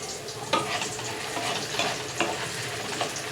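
Potato pieces frying in a pan over a medium flame give a continuous sizzle, broken by a few soft scrapes and knocks as a spatula stirs them, with no voice present.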